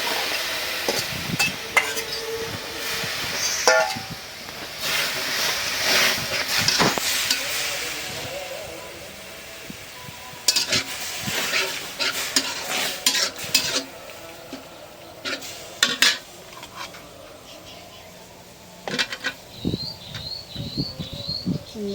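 Shrimp going into a wok with a little water, giving a steady sizzle and bubbling broken by scraping stirs and clinks of utensils against the pan, close and fairly loud, with no talk.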